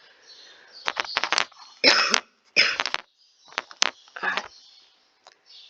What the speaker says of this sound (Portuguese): ainda estou com tosse